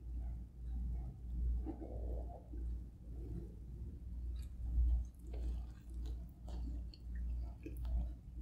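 Someone chews a Jollibee Cheesy Yumburger up close with soft, repeated wet bites and mastication in an uneven rhythm, faint and without speech.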